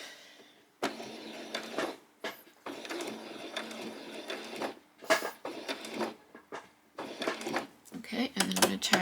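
A sewing machine stitches slowly around a butterfly wing appliqué in short, stop-start runs of whirring, each separated by brief pauses as the fabric is turned.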